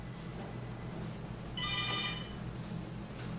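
A telephone rings once, a short electronic trill of about half a second, heard at moderate level over a steady low hum in a home workshop with a hydroponic garden setup.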